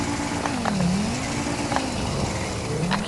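A car drives in GTA V with a steady engine hum that rises and dips in pitch as it steers and accelerates, joined by a few faint clicks.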